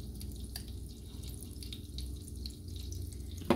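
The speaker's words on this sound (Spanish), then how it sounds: "Voy a tirarle la agüita que soltó." Chicken juices released during cooking are poured back into a pan for a beer-braised tomato chicken dish, giving soft dripping and trickling liquid sounds with small splashes in a quiet kitchen, ending in a brief clatter.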